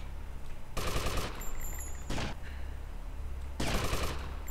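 Gunfire from shooting snipers in GTA: Vice City, heard as three loud, dense bursts of shots separated by short gaps, over a steady low background rumble.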